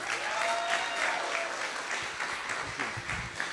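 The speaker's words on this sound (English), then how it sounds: "Please give a round of applause for our director, Albert Chantaburi." Audience applause welcoming the director of the Asian American Center at a community event, a steady dense wash of clapping held at even loudness throughout, with a few louder close claps near the end and no talk over it.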